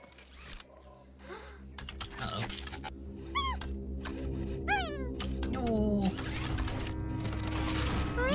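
A cat-like creature in the video game Planet of Lana gives a series of short, rising meows and chirps over soft game music, and someone speaks faintly in the background.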